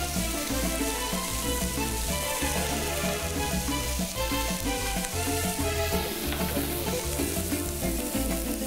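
Red and green bell peppers frying in a pan, a loud dense crackling sizzle that continues steadily, with occasional stirring movement in the pan and no voices.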